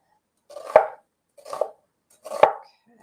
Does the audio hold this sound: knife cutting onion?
yes